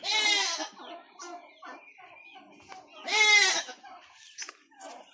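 A goat bleats loudly twice, wavering cries a few seconds apart, with softer murmuring voices and small noises between them.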